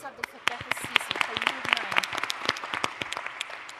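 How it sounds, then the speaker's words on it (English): Audience applause for delegates at the 2019 World Youth Forum: a steady, fairly loud patter of many hands clapping throughout, with a voice speaking faintly underneath. "Please, can we put our hands together for them?"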